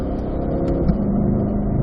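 A car engine pulling in fourth gear on a race track during a practice day: a loud, continuous close engine roar, steady throughout with a brief bump midway.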